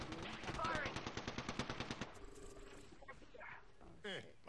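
Rapid automatic gunfire in the battle royale game Apex Legends, a loud fast burst of shots for about two seconds, then scattered game effects and distant shots under a game voice.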